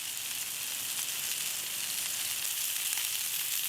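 Onions grilling on a Blackstone griddle beside Juicy Lucy burger patties, giving off a steady, even hiss of sizzling that holds unbroken and moderately loud throughout.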